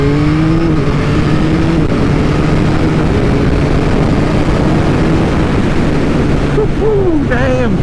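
A Yamaha MT-09 motorcycle accelerates hard with a quick shifter, its engine tone climbing and dropping briefly at each rapid upshift, all loud and close under a constant roar of wind rushing past.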